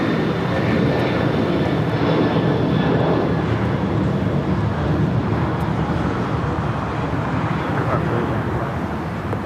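A KLM Boeing 787-10 Dreamliner arriving from Amsterdam at Los Angeles International Airport, its engines producing a loud, continuous broadband roar with a low rumble that holds steady throughout, without any voices.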